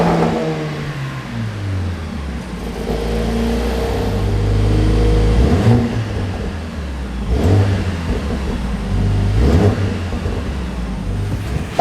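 A Mercedes-AMG A 45 S hatchback with quad round exhaust tips revs repeatedly, loud and close, the engine note rising and falling in several bursts with no talking.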